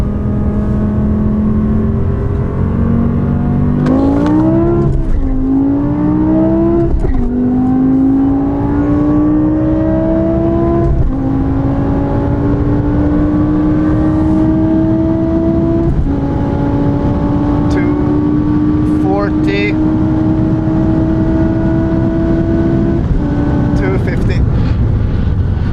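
A Porsche 911 Turbo, 480 hp with a 6-speed manual, and a Kelleners Sport BMW M5 accelerate hard in turn. Loud engine notes climb steadily through several gear changes, and voices talk over the roar.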